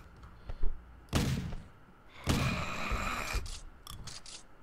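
Shotgun being reloaded in a zombie horror game: two loud mechanical bursts about a second apart, each a sharp racking clatter fading out, followed by softer clicks and thuds, with no talk.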